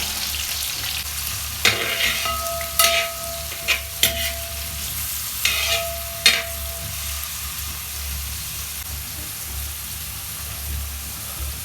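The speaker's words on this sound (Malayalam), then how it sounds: "ബിരിയാണിയിൽ ഒടുവിലിടാൻ വേണ്ടി വെളിച്ചെണ്ണ ഒഴിച്ച് കൊടുത്ത് സവാള ഇട്ട് കൊടുക്കാം" Sliced onions frying in hot coconut oil for biryani, a constant loud sizzle with several sharp spatula clinks and scrapes against the pan in the first half, then steady frying alone.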